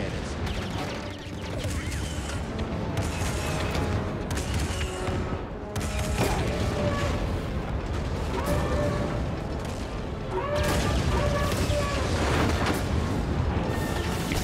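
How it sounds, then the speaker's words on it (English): Ship cannons firing in Star Wars Jedi: Fallen Order, a dense, loud barrage of booming blasts and mechanical clatter layered over game music, with brief pauses between bursts. "So that fires the cannons."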